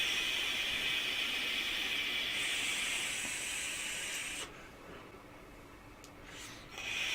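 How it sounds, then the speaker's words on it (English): Vaping Rude Oil e-liquid at an 80-20 mix with 2 mg nicotine: a long, steady airy hiss of inhaling through the device, cutting off abruptly, a quiet pause, then a softer exhale starting at the end. "Another nice smooth vape."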